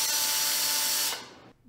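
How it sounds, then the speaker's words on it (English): A power drill spins a socket on a small adapter driving a woodworking dowel jig, a steady close whine for about a second before cutting off into quiet. "I usually just pound a socket on the end of here, have a little adapter, chuck it in the drill"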